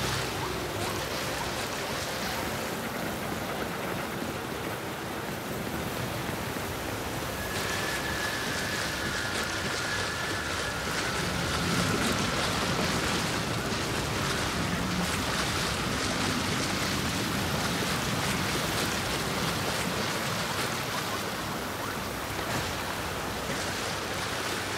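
A waterfall in the video game Gears 5: Hivebusters gives a steady, dense rushing roar of falling water that fills the scene evenly throughout, with no speech.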